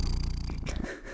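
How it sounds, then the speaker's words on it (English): A cat purrs loudly and steadily right up close, a continuous rumbling throb with no talking. "don't mind the aggressive purring that's happening"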